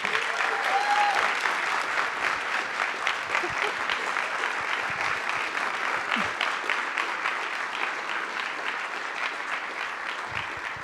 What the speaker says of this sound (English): really deserves a big round of applause and a big thank you